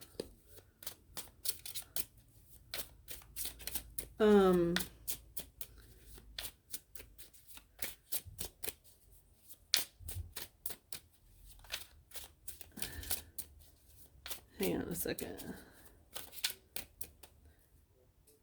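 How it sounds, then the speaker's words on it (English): Tarot cards being shuffled by hand, a series of quick papery riffles and taps running through the whole stretch, with a brief louder flurry early on and a voice speaking briefly. "when I was shuffling these cards"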